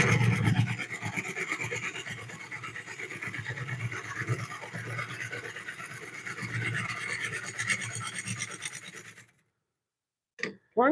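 A new carbide-tipped tool cuts into a walnut bowl spinning on a woodturning lathe, giving a steady, close rasping scrape that runs for about nine seconds before stopping abruptly, with a couple of brief clicks afterward.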